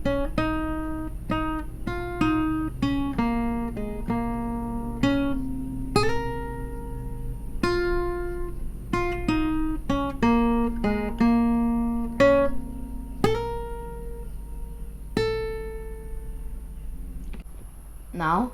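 Guitar picking out the melody of a song, single plucked notes in a quick rhythmic line, each ringing and decaying, played alone and close.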